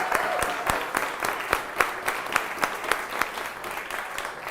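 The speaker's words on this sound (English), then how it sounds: "Give yourself a round of applause" Steady applause from an audience at a 50th birthday celebration, with dense clapping and a few sharper individual claps standing out, moderately close and sustained throughout.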